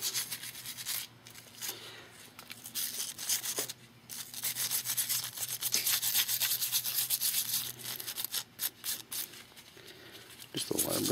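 Stainless wire brush scrubbing dirt and gunk off an old brake pad shim from a Yamaha Grizzly ATV front brake, a steady close rasping rub with brief pauses, under someone talking.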